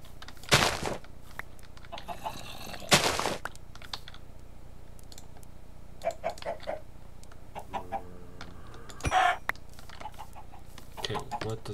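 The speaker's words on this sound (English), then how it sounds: "these chickens, everything around me" Chickens cluck in scattered, short bursts in the video game Minecraft, with occasional computer keyboard typing and quiet voices in the background.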